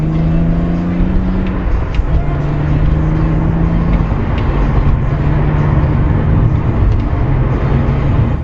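Heard from inside a car fitted with a dashcam, a loud, continuous engine drone and road rumble roll on steadily, with the engine tone stepping up and down as the car drives.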